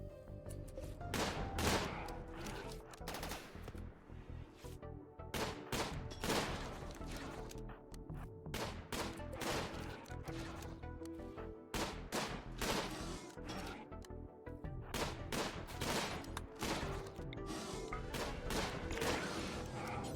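Gunshots fill a round of the Imps versus Zombies video game, with dense, repeated sharp cracks and bursts firing almost continuously at close range.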